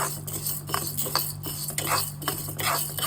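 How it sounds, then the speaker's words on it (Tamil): Lentils dry-roasting on low heat for paruppu podi make repeated dry scraping and rattling as a spoon stirs them in the pan, in a quiet, steady rhythm with no speech. "சிம்மில் தான் நான் வறுத்துட்டு இருக்கேன்."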